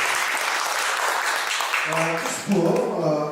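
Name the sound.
audience applause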